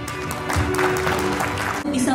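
Conference audience at a national working meeting applauds in a steady wash of clapping, while an announcer talks over it through a sound system.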